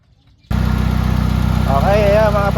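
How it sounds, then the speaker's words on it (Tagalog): A loud, steady electric radiator fan with a new motor on a Mitsubishi Lancer GSR whirring with a constant drone, kicking in abruptly after a short silence and running on, with a faint rising whine partway through. "malakas na yung buga ng fan niya"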